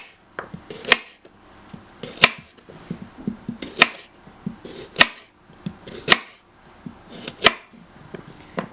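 A knife cuts carrot slices into quarters on a cutting board for a roast vegetable salad, crisp close chops falling in a steady rhythm of about one or two per second.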